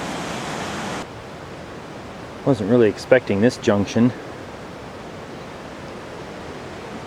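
Rush Creek rushing in a mountain wilderness, a steady broadband roar of flowing water heard close at first, then softer and more distant, with someone briefly speaking over it.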